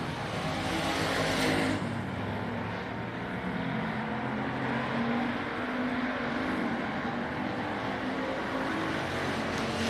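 Race cars lap at Texana Raceway Park during a heat race, their engines a continuous roar that swells early as a car passes and then holds steady at a distance.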